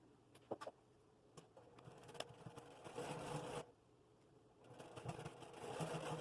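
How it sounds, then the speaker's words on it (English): A sewing machine stitches a quilt block in short, quiet bursts, its faint whirring runs broken by brief pauses and small clicks of fabric being handled. "Match it up with the middle, move it to the edge, and sew on the edge."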